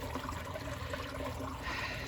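A creek flows in a steady, continuous wash of water, close by and fairly quiet, with no voices.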